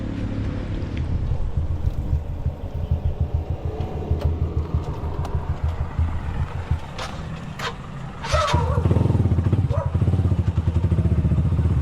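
A motorcycle engine idles with a fast putter, then gets a short burst of throttle that raises the rumble near the end, heard close up.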